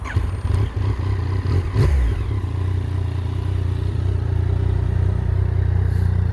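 Yamaha MT-09 SP 2019 motorcycle pulling away in second gear, its steady engine drone close and loud throughout, with a brief rise in revs near the start.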